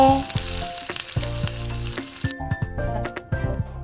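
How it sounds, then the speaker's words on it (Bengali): Large eggplant fritters (beguni) deep-frying in white oil crackle and bubble up close, broken by clattering utensil knocks and a loud tonal hum from nearby, with no speech. "এখানে বেগনিগুলোকে ডুবো তেলে ভাজবো, কারণ বড় বড় বেগনি আছে সেই জন্যে।"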